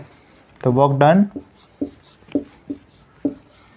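Writing on a board during a physics lesson on gravitational potential energy: a short burst of a voice, then a series of brief, separate scratchy strokes at an uneven rhythm, close and fairly clear.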